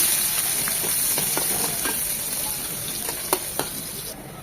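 Two dried red chillies and half a cup of chopped onion fry in leftover oil from cooking rohu fish, a loud, close, crackling sizzle with a couple of sharp stirring knocks near the end.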